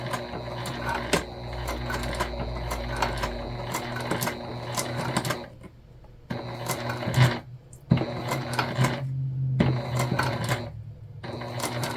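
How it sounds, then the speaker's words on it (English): A sewing machine top stitches a crossbody bag close to the edge and over zipper teeth, running in steady mechanical bursts that stop and restart several times, close and fairly loud, with no talking. "then we're just pulling back and top stitching here"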